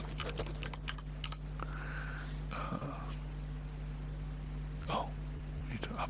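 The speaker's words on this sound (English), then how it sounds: "From here, you can type in your job number." Keys clattering on a computer keyboard at a desk during software setup, fairly soft and irregular over a steady low electrical hum, with a few louder clicks and brief pauses.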